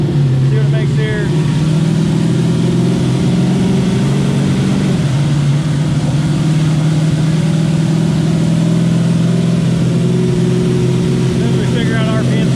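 Turbocharged LS-swapped Mustang with an 88mm turbo running on a dyno, a loud continuous droning engine note with a pitch shift midway, heavy and close, with people talking over it.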